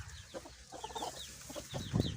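Caged chickens clucking in short, scattered bursts, with a hen's louder call near the end, all close and fairly quiet with no talking.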